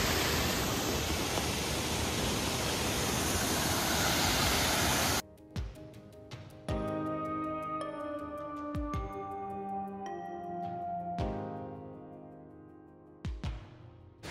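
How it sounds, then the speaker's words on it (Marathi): A monsoon-swollen river in spate near Ganpati Gadad in Maharashtra roars in a loud, steady rush for about five seconds, then cuts off abruptly and music takes over. "त्याच्यामुळे हे बघा नदी किती जोरात वाहत आहे"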